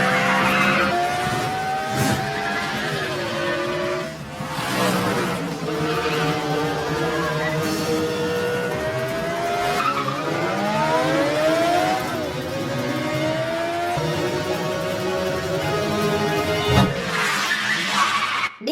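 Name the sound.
car chase with tires skidding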